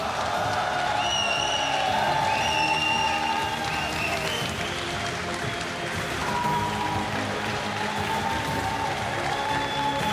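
Steady, loud applause and cheering from a crowd at a Pokémon GO championship tournament in Turin, hailing the final winner, dense and continuous throughout.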